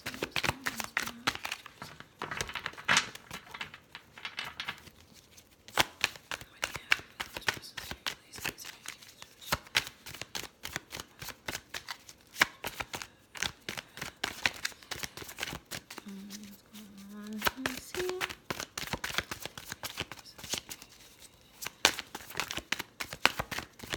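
Tarot cards are shuffled and pulled in quick rapid riffles and papery slaps, close and crisp, coming in dense bursts with short pauses while a voice talks intermittently.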